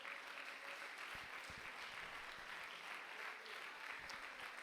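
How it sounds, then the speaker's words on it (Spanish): Steady applause from a church congregation, a continuous wash of clapping hands at moderate distance, sustained evenly throughout with no voices standing out. "Vamos a dar una ofrenda de palmas."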